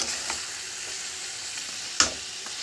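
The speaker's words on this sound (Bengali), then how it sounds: "মাংসটা কিন্তু আমার দেখেন কষানো হয়ে যাচ্ছে খুব সুন্দরভাবে" Beef braising and frying in a pan gives a continuous close sizzling hiss, with one sharp metallic tap from a utensil near the end.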